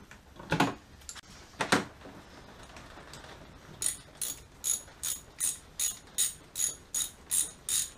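A hose clamp being tightened on a homemade turbo boost leak tester gives a run of about ten evenly spaced, close ratcheting clicks, after a couple of louder knocks and clatters.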